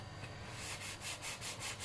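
A knife saws through a soft loaf of banana bread baked in an air fryer, in a few short back-and-forth strokes, a rhythmic rasping scrape heard close up.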